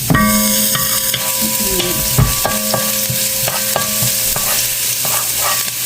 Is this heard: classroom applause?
no